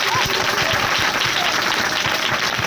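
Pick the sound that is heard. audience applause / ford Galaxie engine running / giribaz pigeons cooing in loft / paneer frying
audience applause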